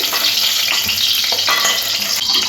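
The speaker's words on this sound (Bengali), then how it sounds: "পটলের টুকরোগুলো লাল করে ভেজে নিয়েছি, উঠিয়ে নিচ্ছি।" Pieces of pointed gourd fry in hot oil, giving a bright, continuous sizzle with light crackles and occasional stirring scrapes. The frying is close and loud, and no voice is heard over it.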